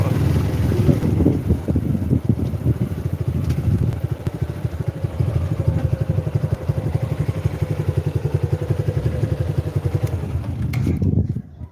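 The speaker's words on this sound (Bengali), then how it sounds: "এই যে নৌকা করে মানুষ আসছে এদিক থেকে" A motorboat carries people across floodwater on a main road in Gowainghat, its engine chugging loud and rhythmic beneath wind buffeting the microphone until it cuts off at the end.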